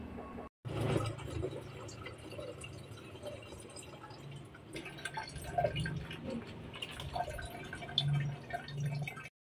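Water from a freshly washed plastic gallon container is poured into a bucket, giving a steady close splashing and trickling flow with drips, alone without talk.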